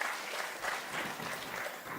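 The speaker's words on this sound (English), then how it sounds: "please welcome her with a big round of applause." Audience applause greets a fourteen-year-old personality coach as she is called onto the stage, a steady wash of clapping from a crowd that holds evenly loud for two seconds.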